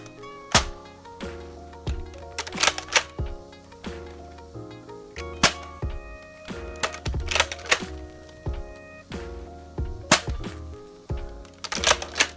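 Dart Zone foam dart blasters, a Villanator and a Tomahawk 60, fire angled shots: a run of sharp, close thunks and clicks at irregular intervals over steady background music.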